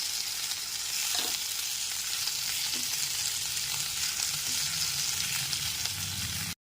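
Chopped tomato is sautéed with ginger-garlic paste and onion for an eggplant curry. It gives a close, even sizzle throughout, broken by soft stirring scrapes, then ends abruptly, with no voices.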